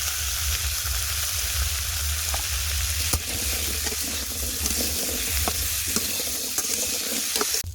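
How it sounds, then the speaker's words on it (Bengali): Onions fried until browned in a pan, now stirred together with chopped taro, salt and turmeric, giving a steady close sizzle with repeated scraping stir strokes and clinks throughout. "পেঁয়াজগুলো ভাজা ভাজা হয়ে গেছে এবার এর মধ্যে দিয়ে দেবো কেটে রাখা কচুর মধ্যে"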